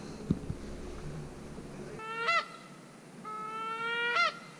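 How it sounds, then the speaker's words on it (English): Waterfowl call overhead in an outdoor duck-hunting marsh, with two bursts of honking, quacking cries, the second longer, after a brief low thump at the start. "Bunch of ducks in them all."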